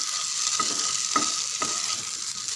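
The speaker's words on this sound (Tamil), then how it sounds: "ஒரு 3 நிமிஷம் நல்லா கலந்து விடுங்க" Masala potato snack made with corn flour frying in a pan, a steady close sizzle throughout with three soft scraping strokes of a spoon stirring through it.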